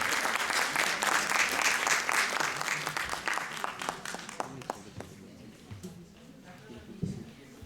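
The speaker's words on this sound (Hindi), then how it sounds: "आप लोग ताली बजाकर के स्वागत करें।" An audience at a Hindi Day event at an Indian embassy claps in welcome: a full, dense round of applause that thins out midway, leaving a few scattered claps and quiet room noise.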